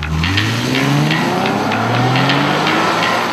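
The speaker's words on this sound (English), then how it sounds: "The V6 engine provided plenty of go, and the exhaust note is more than enough reason to blat it around the countryside." A Nissan 370Z roadster's V6 engine and exhaust roar loudly and continuously close by, climbing in pitch as it accelerates hard with a raspy, throaty note.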